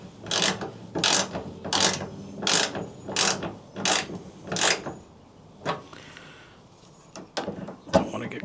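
A hand ratchet tightens a bolt on a 2004-2012 Chevy Colorado LS tailgate latch, giving seven loud, evenly spaced ratcheting bursts up close, then a pause and a few sharper scattered clicks near the end.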